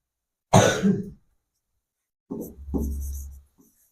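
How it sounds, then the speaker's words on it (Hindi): A person coughs hard in a short burst, then clears their throat twice after a pause, close to the microphone in a quiet room. "अब हो गया, कितना खांसोगे बे,"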